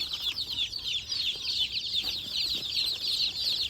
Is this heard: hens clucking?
yes